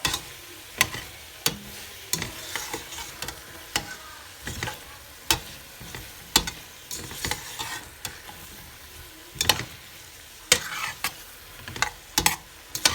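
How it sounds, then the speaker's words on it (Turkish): Fresh green beans sautéing in a pan for a Turkish potato and green bean dish, a continuous sizzle broken by repeated sharp scraping stir strokes. "5 dakika bu şekilde kavuruyoruz"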